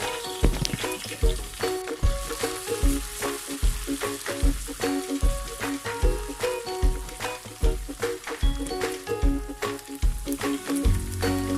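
Ginger garlic paste sizzles with fried onions in a pan for a chicken korma, a steady loud crackling fry broken by regular scraping stirs of a spoon, close up with no talking.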